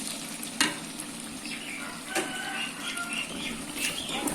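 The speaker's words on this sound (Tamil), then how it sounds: "தக்காளி, தயிர், மசாலா நல்லா மெர்ஜ் ஆகிற மாதிரி நல்லா வதக்கிடலாங்க" Tomato, curd and masala sauté for chicken dum biryani, a steady sizzle running throughout with occasional sharp clinks and scrapes of stirring against the vessel. No voices are heard.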